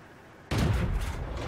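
A tank cannon fires once in World of Tanks during a Skoda T25 match, a sudden loud close boom with a sharp attack that holds as a broad, ringing roar fading slowly over the next second.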